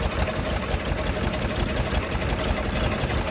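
A 2008 Ford Expedition engine idles up close, a loud continuous rumble with a rapid, even mechanical pulse and no talking over it.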